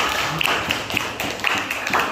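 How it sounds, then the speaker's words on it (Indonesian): Scattered hand claps from a classroom audience applauding a student, sparse and uneven taps rather than a full ovation, moderately close with a faint room background. "tepuk tangan buat Sarah"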